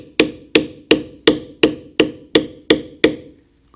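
A mallet strikes a beveling tool on leather during Celtic knot tooling, eight sharp, evenly spaced taps about a third of a second apart, close and crisp.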